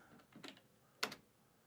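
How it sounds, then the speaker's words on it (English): A few soft, quiet keystrokes on a computer keyboard, a short cluster of taps followed by two sharper clicks, with no talking. "we're going to type that in"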